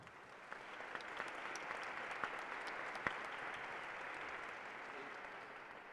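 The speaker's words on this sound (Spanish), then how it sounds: "pedimos un gran aplauso para Marina" Applause for Marina at a science and museum panel discussion, a steady wash of clapping from a seated audience, faint and distant, holding evenly for several seconds.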